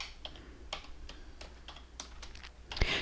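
Key presses on a computer keyboard while tabbing between table cells in Google Slides: a run of distinct clicks at an uneven rhythm, close and fairly quiet, with one sharper knock near the end.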